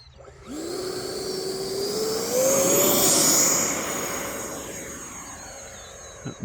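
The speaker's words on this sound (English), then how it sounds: "E-flite 90 millimeter Viper taking off." An E-flite 90 mm Viper RC jet with an electric ducted fan takes off, its loud, rising whine swelling as it passes near and then fading into the distance, heard alone outdoors on a calm, windless day.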